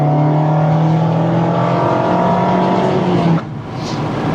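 A Mazda MX-5 Miata Grand Touring roadster engine holds a steady, loud drone with a rising tone, then cuts off abruptly near the end, leaving quieter road noise.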